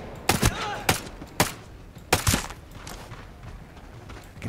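Several 12-gauge shotgun blasts ring out in a video game bounty-hunter shootout, sharp loud reports spaced irregularly, two or three close together, then a lingering noisy tail.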